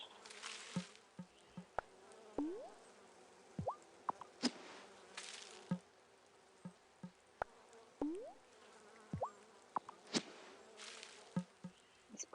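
Bees buzz faintly in the video game Wylde Flowers during a flower-planting scene, a soft insect drone broken by brief clicks and chirps.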